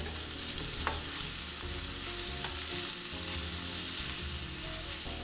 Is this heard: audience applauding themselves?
no